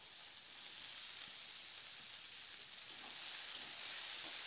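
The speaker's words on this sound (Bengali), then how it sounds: "এরপর এখানে আমি কেটে রাখা মূলোগুলোকে দিয়ে দিচ্ছি।" Chopped radish goes into a pan of potatoes and spices for a Bengali radish ghonto, bringing a steady, fairly quiet sizzle and hiss that holds evenly throughout with no talking.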